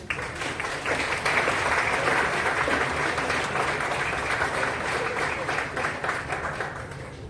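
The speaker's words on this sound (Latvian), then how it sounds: "Sagaidām ar aplausiem" Audience applause at a school Christmas concert, a sustained dense wash of clapping from a full hall, steady and loud for several seconds with little variation.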